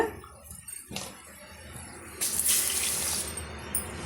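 Water pours steadily into a pot of egg gravy, a soft splashing stream that grows louder and brighter midway, with a light clink near the start.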